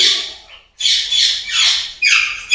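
Alexandrine parakeet at a bird breeding farm gives a series of loud, harsh squawks: one shorter call, a brief pause, then several long raucous calls in close succession, near and alone.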